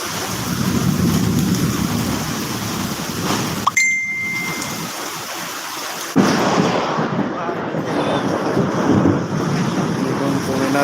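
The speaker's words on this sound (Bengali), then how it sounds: "প্রচণ্ড আপনার বাতাস আর বৃষ্টি আল্লাহ রহমতে অনেক ভালো বৃষ্টি হচ্ছে" Heavy rain and strong wind lash down during a storm in Rajshahi, a loud, steady broadband roar that dips briefly midway before surging back just as dense.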